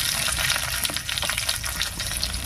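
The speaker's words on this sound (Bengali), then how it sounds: "তেল হালকা গরম হয়ে গেছে, এবারে তেলের মধ্যে দেব 1 চামচ গোটা ধনিয়া, 1 চামচ মতো গোটা জিরা" Whole coriander, cumin, ginger, dried chilli and garlic sizzle in hot oil, a steady, busy crackle with soft stirring noises close by.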